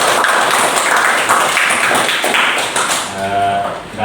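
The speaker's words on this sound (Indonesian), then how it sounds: "Aplaus dulu." Audience applause at the close of a teaching-practice talk, a dense steady wash of clapping filling the room for about three seconds before a voice cuts in near the end.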